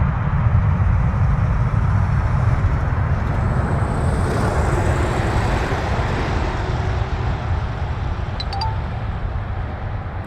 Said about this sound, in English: Dreamliner on the roll.